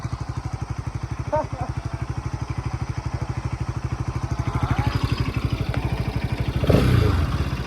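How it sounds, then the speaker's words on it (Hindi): A motorcycle on its stock exhaust rides off-road, its engine thumping in a steady close, loud rhythm throughout, with a surge of revving and clatter near the end. "अपनी बाइक अब स्टॉक एग्जॉस्ट में है"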